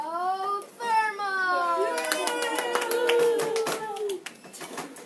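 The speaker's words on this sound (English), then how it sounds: "Have a round of applause for geothermal" Scattered clapping from a young crowd cheering finalists at a geothermal presentation, light hand claps bunched in the middle under excited, high-pitched children's voices calling out.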